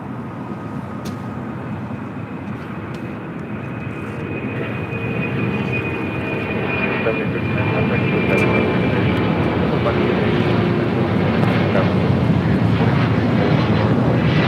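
An Aero Union aircraft on its takeoff roll on runway 25 right at LAX, bound for Guadalajara, with engine roar building steadily and growing louder as it accelerates, a faint tonal whine running through, and voices talking over it.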